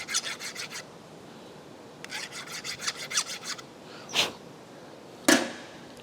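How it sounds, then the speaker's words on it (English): A machined metal part is deburred on a vertical mill setup with short rhythmic rasping strokes in two quick bursts, followed by a couple of isolated scrapes and a sharp tap, close and without speech. "I'm going to deburr this one."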